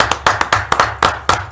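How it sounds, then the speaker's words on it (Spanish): A small group claps briefly, about seven separate sharp claps at a steady, unhurried rhythm, close and fairly loud, with no voices. "Bienvenidos, Derlinson, un aplauso."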